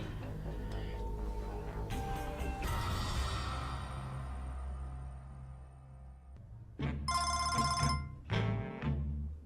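A telephone rings in bursts of bright electronic trilling near the end, following a stretch of fading tonal background, loud and close with no talk.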